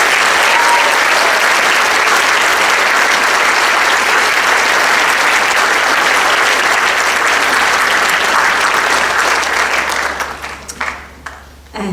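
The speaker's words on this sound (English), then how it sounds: "if you could please join me in a round of applause for the staff at Thornlie Senior" Loud, dense applause from a large audience at a senior high school graduation ceremony, steady for about ten seconds before thinning out and fading near the end.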